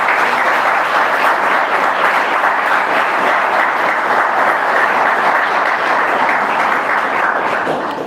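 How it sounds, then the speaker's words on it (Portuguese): Wedding congregation in a church in Araranguá, Santa Catarina, applauding: steady, dense clapping from many hands holds at even loudness for about eight seconds, tapering slightly at the very end. "Os irmãos, dê uma salva de palmas para Jesus."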